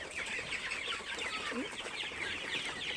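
Sonali chickens on a poultry farm cluck and chatter steadily as a dense flock, with overlapping calls filling the whole stretch at a close, even level.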